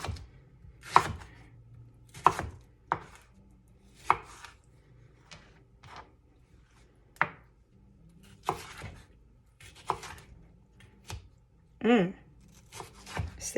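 A knife chops vegetables on a cutting board in spaced single strikes, sharp and close, with quiet talking running between the cuts.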